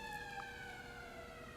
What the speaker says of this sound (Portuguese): Espera, Sirene.